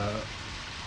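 Rain falls in the video game Deadly Premonition as a steady broadband hiss of moderate loudness, with a brief voice-like tone at the very start.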